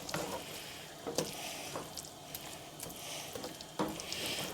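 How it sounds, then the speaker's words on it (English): Mashed pumpkin with sour cream and butter being stirred in a bowl, a close, soft, wet squelching churn with a few sharper scraping strokes of the spoon, steady throughout. "Stir it together so you get all the bits of sour cream and butter and all that other goodness mixed"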